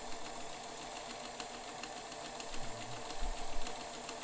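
A Bernina 530 Record sewing machine stitches an ornamental pattern, a steady mechanical whir with fast regular needle ticks running throughout, and a slight deeper hum toward the end.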